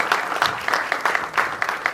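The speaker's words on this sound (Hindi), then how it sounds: "तालियां एक बार।" A live audience at a debut music album launch claps briefly, giving a short burst of close, dense applause with no voices on top.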